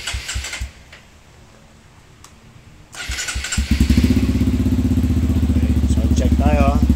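Honda CRF 150 motorcycle engine catching and settling into a loud, steady exhaust throb close by, after a few seconds of quieter mechanical clicks and background voices.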